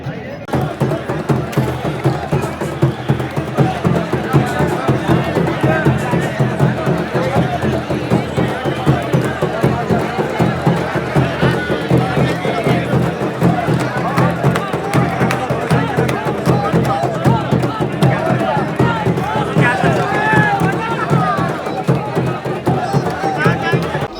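Dense crowd of pilgrims at Baba Baidyanath Dham Jyotirlinga temple, a loud, steady hubbub of many overlapping voices and shuffling movement filling the space close around, continuous with no pauses throughout.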